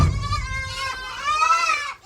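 Goats bleating in a barn at feeding time in winter, several wavering calls close by running together almost continuously before a brief pause at the end.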